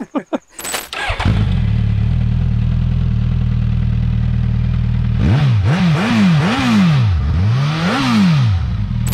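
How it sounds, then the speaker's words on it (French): Suzuki GSX-S1000 motorcycle on its stock exhaust, loud and close: a sharp start, then a steady idle, then a run of rising and falling revs blipped one after another, with no talking. "On a un échappement d'origine qui est plutôt sympa, qui fait un bruit vraiment correct"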